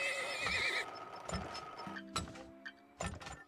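A cart horse in the video game Turmoil whinnies loudly and clearly, followed by scattered hoof clip-clops and clinks against quiet game background.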